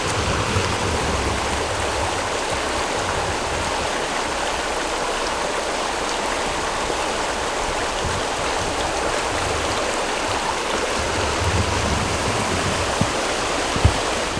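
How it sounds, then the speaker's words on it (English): A deep Adirondack mountain stream rushes past in a dense, steady broadband wash of flowing water, close and continuous with no voices. "Got here to our prime spot, the best pools we've experienced down here, these deep Adirondack streams."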